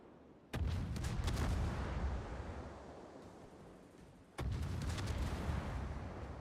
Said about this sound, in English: Battleship shells from the Bungo coming in.